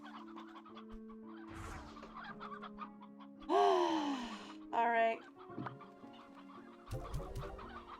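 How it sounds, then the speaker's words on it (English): Chickens in Slime Rancher 2 cluck and squawk repeatedly, with two louder bursts of crowing-like calls midway, while a person talks briefly over the flock. "So now I just have a bunch of chickens wandering around."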